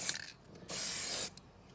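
A spray can sprays paint onto cardboard tabletop terrain, giving one steady hiss of about half a second between short faint puffs, close and alone.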